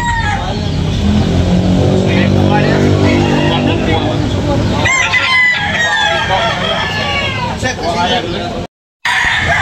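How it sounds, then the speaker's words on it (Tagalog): Capon chickens cluck and crow close by, loud and overlapping, with a person talking over the birds and a brief cut near the end, at a chicken market in Tabunok. "Kapong manok mga kabakerd."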